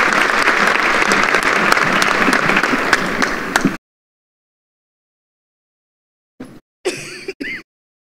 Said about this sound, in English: Please, another round of applause for our Lionheart Award recipients.